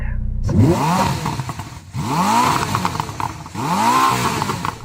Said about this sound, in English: Nick, let's have a listen to your V8.